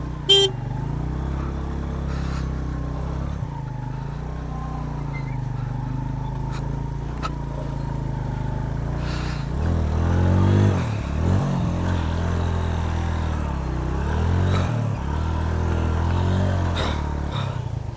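A motorcycle engine drones and revs hard while its tire spins stuck in glacier snow on a mountain bike tour, a loud steady rumble with surging revs and a few sharp knocks.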